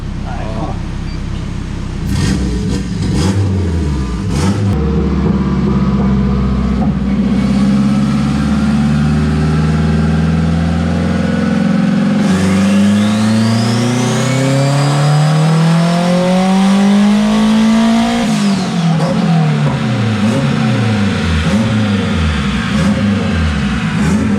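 Turbocharged Honda Civic with a K20A2 engine on a dyno, running steadily then revving in long rising and falling sweeps, loud and close, with people talking over it.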